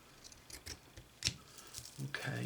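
Scissors snipping through white cloth, a few short quiet cuts spaced across a brief moment, close and faint in a quiet room.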